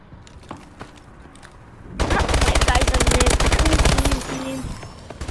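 Rapid automatic AK-12 fire in a video game erupts after quieter game sounds, a dense loud burst of shots lasting about two seconds before tapering off.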